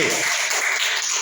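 Children clap together in a classroom, a dense, loud burst of applause that lasts about a second without pause.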